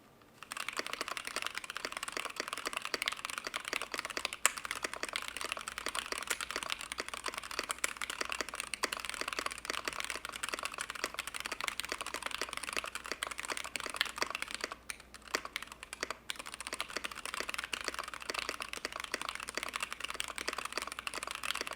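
Steady typing on a Fox Lab Key65 dual-gasket mechanical keyboard fitted with stock Zealios V2 switches: a continuous, even stream of quiet, close keystrokes with no talking.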